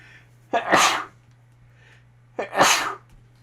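Two sharp sneezes about two seconds apart, each with a quick intake before a loud burst, close and alone against a faint steady hum.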